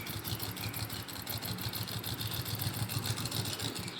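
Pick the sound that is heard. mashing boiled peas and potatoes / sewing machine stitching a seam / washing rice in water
sewing machine stitching a seam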